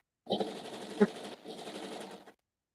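A sewing machine hems the lining and overlay of a skirt, running in a steady close whir with a brief pause and a sharp clack partway through.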